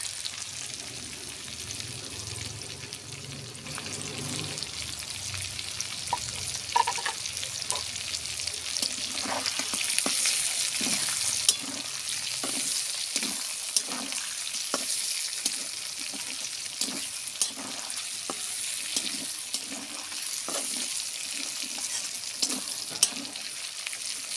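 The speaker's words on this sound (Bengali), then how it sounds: "আদা আর রসুনটা দিয়ে আমার ভালো করে ভাজা হয়ে গেছে" Ginger and garlic frying in a pan for a mango achari chicken, an even sizzle under a regular series of scraping stirs from a spoon, moderately loud and without speech.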